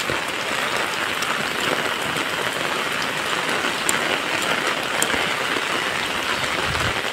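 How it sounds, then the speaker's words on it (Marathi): Heavy monsoon rain pours down steadily in a village, a loud, dense hiss of drops striking surfaces that stays constant throughout with no talking. "बघू शकता तुम्ही इकडे पाऊस किती आहे"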